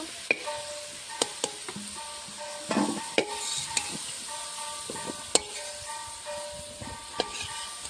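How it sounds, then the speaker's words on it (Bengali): Potatoes fried in oil sit in a pan giving a quiet, close sizzle, broken by sharp metallic clinks and scrapes of a utensil against the pan at irregular intervals. "লাল লাল করে আলুটা ভেজে নিয়েছি, এখন নামিয়ে নেব"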